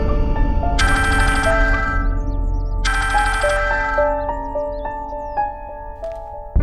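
A phone ringtone plays as a repeating bright electronic melody, with two loud bursts followed by a steady chiming pattern, clear and close.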